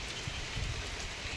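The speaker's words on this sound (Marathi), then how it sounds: "का पाऊस पडतोय" Steady rain falls close by in the Konkan countryside, a dense, continuous patter and hiss with no breaks and no voices.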